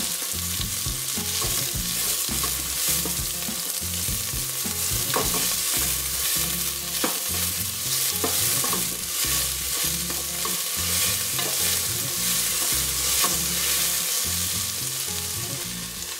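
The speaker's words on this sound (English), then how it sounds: "We'll get our onions and peppers going first." Onions and peppers frying in oil in a pot over medium-high heat for a Colombian fish head sancocho, a loud steady sizzle with occasional stirring clinks throughout and no talk.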